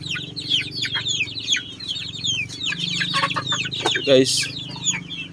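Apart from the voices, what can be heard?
chickens clucking on a small chicken farm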